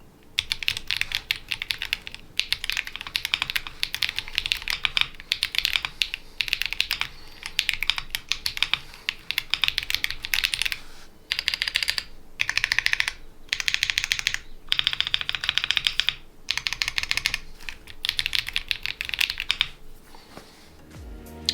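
Someone types quickly on a mechanical keyboard fitted with Akko Lavender Purple switches and ABS keycaps. The clacking is close and continuous, broken by a few brief pauses, with no voices.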